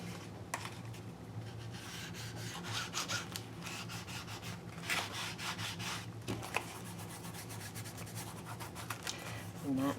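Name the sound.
distressing edge of altered book cover by rubbing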